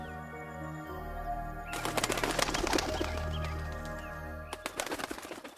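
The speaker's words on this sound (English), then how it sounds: "What's with that bird?" A bird calls in a cartoon forest scene, heard as repeated cooing notes and fluttery bursts layered over a sustained musical drone, with a second flurry near the end.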